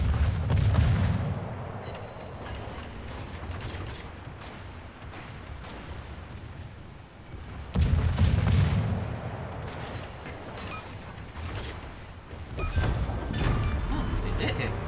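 Torpedo hits and heavy booms strike an enemy battleship in World of Warships, three deep rumbling explosions spaced several seconds apart over ongoing naval game ambience, with a player talking in between.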